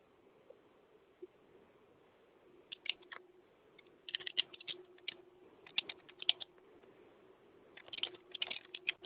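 A computer keyboard is typed on in short irregular bursts of faint, close clicking keystrokes, with a low steady hum underneath and nobody talking.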